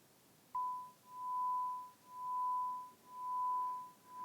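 A pure 1 kHz test tone swelling and fading in loudness once per second, heard as steady slow pulses of level that start abruptly and continue for about four seconds on their own.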